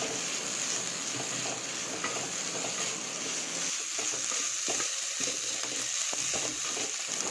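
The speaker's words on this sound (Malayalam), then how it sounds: "ഇതെല്ലാം കൂടി നന്നായിട്ട് മിക്സ് ചെയ്തെടുക്കുക." Crushed beef mixture for Kerala-style mixed beef pathiri is stirred in a hot pan, giving a steady sizzle and frying hiss with soft scraping stir strokes, with no talking.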